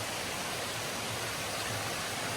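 Waterfalls and a clear stream at a jungle resort in Tegalalang, Ubud, Bali, giving a dense, steady rush of falling water that fills the whole clip evenly, close and unbroken with no voices.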